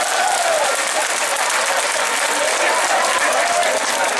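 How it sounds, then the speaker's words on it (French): A crowd at a strike rally applauds health workers, a dense, steady wash of clapping that stays loud and even throughout with faint cheering mixed in. "Applaudissez-moi ces agents."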